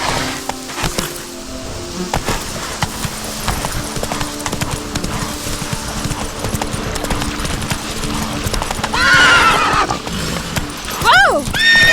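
Horse in The Witcher 3 video game, with steady clip-clop hoofbeats under ambient game sound and insect buzzing, then a sharp neigh and a second whinny near the end; a voice speaks briefly.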